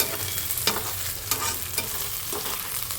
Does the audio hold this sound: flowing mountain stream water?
no